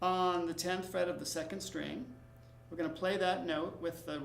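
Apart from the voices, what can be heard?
No everyday noise stands out behind the speech.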